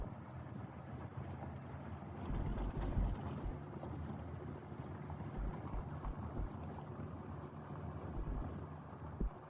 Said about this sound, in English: I guess the wind advisory, you could see how windy it is there.